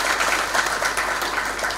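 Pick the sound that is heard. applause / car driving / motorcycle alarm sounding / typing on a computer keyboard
applause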